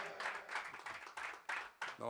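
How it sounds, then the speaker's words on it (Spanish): A concert audience applauds in quiet, distant waves of dense clapping that swell and dip for a couple of seconds before a voice begins speaking. "ahora se sumaron más aplausos"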